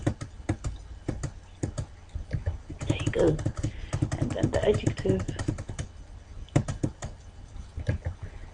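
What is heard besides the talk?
typing on computer keyboard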